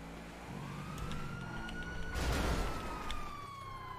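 A police car siren in the GTA V video game wails in a long rising-and-falling sweep over engine rumble, loud and near, with a burst of crash-like noise partway through.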